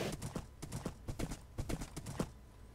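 Horse hooves clip-clop in a quick, steady rhythm in a blocky Minecraft-style game, a fast run of close, crisp clacks with no other sounds.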